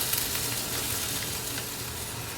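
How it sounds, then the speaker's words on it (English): Sausage sizzles and fries in a skillet, browning and crumbling with a steady, fairly quiet crackle and no talking over it. "Now we're just going to fry this up till it's brown and crumbled."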